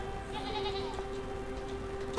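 Goats in the video game Unicorn Overlord bleat over a steady tonal game backdrop, with a short, clear bleat standing out alone at moderate loudness.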